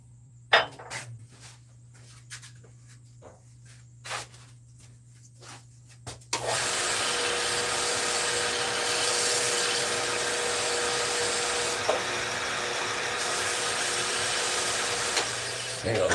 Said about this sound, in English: But I'm going to sand this off real quick.